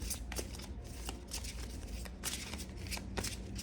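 Tarot cards shuffled in quick, steady riffling bursts, close and continuous over a low background hum, with no voices.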